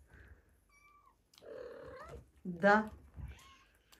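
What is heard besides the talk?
mother cat and kittens meowing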